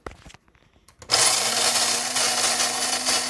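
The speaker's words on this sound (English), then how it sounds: "the beans are going into the hopper and they're getting crushed" An electric coffee grinder starts up after a quiet moment and runs with a steady, loud crunching whir as beans are crushed, continuing to the end.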